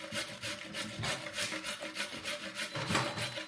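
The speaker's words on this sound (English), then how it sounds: "I'm just gonna grate it into the bowl." A carrot grated into a bowl, heard as a close, continuous rhythmic rasping with quick back-and-forth strokes at a steady pace.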